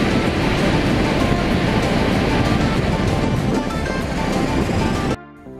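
Ocean waves break on Barra de Santiago beach in Ahuachapán, El Salvador, a loud, continuous roar of surf that cuts off abruptly near the end.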